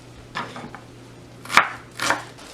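An onion being chopped with a knife on a board, a few separate crisp knocks, the last two the sharpest, close and fairly clear against a quiet background hum.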